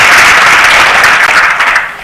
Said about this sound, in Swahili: Makofi kwa kanisa hili.